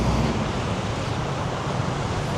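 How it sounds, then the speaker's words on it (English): Ocean waves wash onto a beach in Vietnam, a steady, fairly loud roar of surf blended with wind, continuous and without speech. "Wow, look at the waves."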